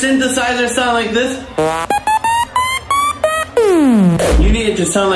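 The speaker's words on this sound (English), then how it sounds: "Does your synthesizer sound like this?" Synthesizer at a hardcore music live set: a bright buzzy synth line with gliding pitch, then a run of short stabbed notes separated by gaps and a long descending sweep, loud and close.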